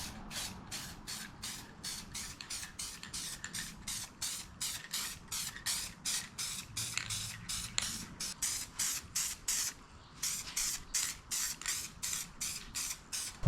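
An aerosol can sprays a coat onto a squarebody truck's sticky steering wheel during restoration, short hissing bursts in a steady rapid rhythm, close and fairly quiet, with no talking.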